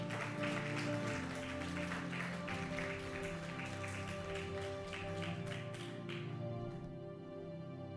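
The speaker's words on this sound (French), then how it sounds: "On acclame très fort pour le Seigneur" A church congregation claps loudly and continuously for the Lord during a French-language service, a dense wash of applause lasting several seconds before thinning out near the end, with music underneath.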